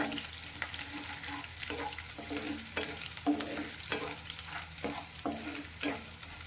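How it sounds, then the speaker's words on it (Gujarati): Green chillies, curry leaves, mustard seeds and cumin sizzle steadily in hot oil, close and fairly loud, with repeated scraping strokes of a spoon stirring through the pan. "મરચાં આપણા સારી રીતે સંતળાઈ ગયા છે"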